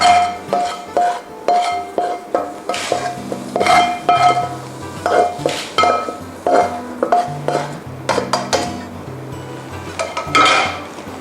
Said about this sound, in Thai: นี้ก็โขลกให้เข้ากันค่ะ